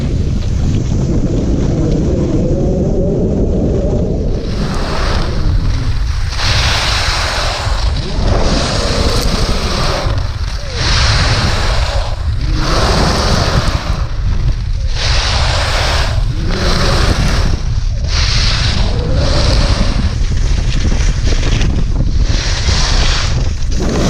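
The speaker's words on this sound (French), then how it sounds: "On skie sur un fond avec un bruit très particulier, justement. Je vais vous faire entendre ça." Skis slide over a hard, noisy snow base, scraping loudly in rhythmic bursts about every second or two. Wind rushes steadily against the microphone underneath.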